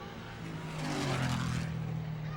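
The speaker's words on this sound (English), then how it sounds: "Bumper to bumper racing here." Super Street Stock cars race bumper to bumper at Mesa Marin Raceway in 1998, engines droning steadily with a swell as the pack passes nearby, then holding a continuous roar.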